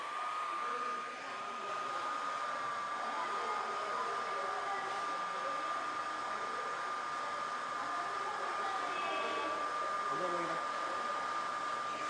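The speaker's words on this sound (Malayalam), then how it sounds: "ഒരു ഹെയർ ഡ്രയർ വെച്ച് ഈ വിങ്ങിലേക്ക് ഞാൻ കാറ്റടിപ്പിക്കുകയാണ്." A hair dryer blows air onto a model aircraft wing in a school science-fair demonstration, a steady loud whirring drone with a constant high whine running unbroken and close throughout.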